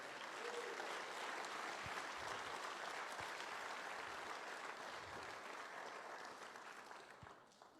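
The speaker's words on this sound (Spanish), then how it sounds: "Dale un aplauso al Señor." A church congregation applauds during a Spanish-language sermon, with dense, sustained clapping from many hands that holds steady and then fades slightly toward the end.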